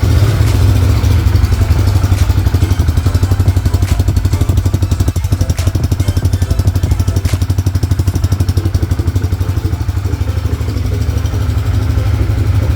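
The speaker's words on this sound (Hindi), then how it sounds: "चलिए अब आपको मैं बाइक स्टार्ट करके दिखाती हूँ।" A Bajaj Freedom 125 CNG motorcycle's small single-cylinder engine runs close by with a rapid, clattery idle, briefly revving and settling again, loud and steady with no talk over it.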